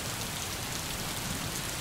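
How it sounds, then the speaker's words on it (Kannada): Heavy late-night rain pours down in Belagavi, a steady, dense hiss of drops hitting surfaces that stays constant throughout with no voices. "ಧಾರಾಕಾರವಾಗಿ ಮಳೆ ಬರ್ತಾ ಇದೆ."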